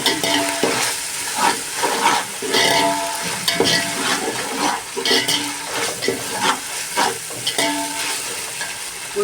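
Ginger garlic paste sizzles with onions in a hot pan for soya biryani, loud close frying hiss broken by repeated scraping strokes of a spoon stirring the mix.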